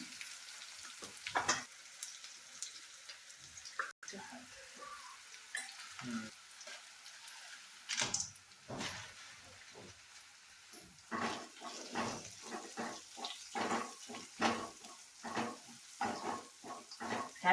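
Suji semolina roasting with chilli and turmeric in a home kitchen pan, close dry sizzling and frying with bursts of scraping stirs that come more often toward the end.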